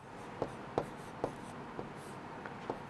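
A pen writing an answer by hand on paper in a Sanskrit lesson, with quiet, evenly spaced scratchy strokes, about seven of them, close and faint.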